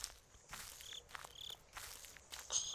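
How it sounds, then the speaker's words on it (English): Footsteps crunch in the horror video game Slender, a steady walking rhythm of soft scuffing steps with faint insect-like background chirping and no talk. "I don't even like the footstep noise."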